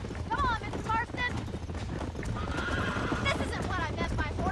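A horse in the Red Dead Redemption video game whinnies several times over a steady clatter of hooves, with wind noise and game dialogue in the background.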